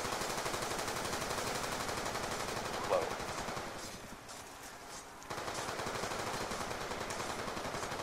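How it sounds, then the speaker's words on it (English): Rapid automatic gunfire from a weapon in Call of Duty Zombies, a dense, sustained rattle of shots that thins briefly in the middle and then resumes at full pace, with no talk over it. "My bullet counter's not even going as fast as I'm shooting."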